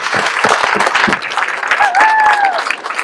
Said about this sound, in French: je crois qu'on peut vous applaudir très fort